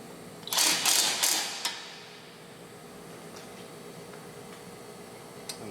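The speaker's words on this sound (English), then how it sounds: "Now that that's starting to snug, I'm going to go ahead and tighten this bolt." Ratchet tightening a brake bolt on a Civic Type R: a few quick bursts of rapid clicking close by, then quiet workshop background with a faint click near the end.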